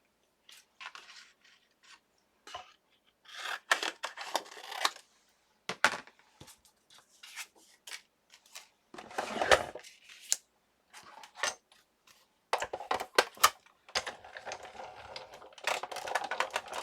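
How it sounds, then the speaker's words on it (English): Scissors snip through white cardstock in a series of short, crisp cuts, sometimes in quick clusters and sometimes separated by brief pauses, heard close up in a quiet room with no talking. "So now I'm going to cut a piece of white cardstock."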